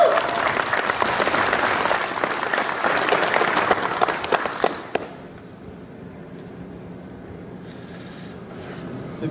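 A crowd applauds loudly and steadily for about five seconds, then the clapping cuts off, leaving a quiet room with faint background noise.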